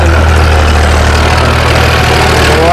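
A farm tractor engine idles in Rajasthan, giving a loud, steady low rumble with an even drone that holds unchanged throughout, and no voices are heard.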